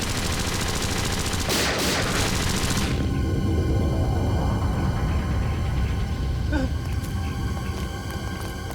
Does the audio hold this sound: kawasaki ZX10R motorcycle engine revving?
no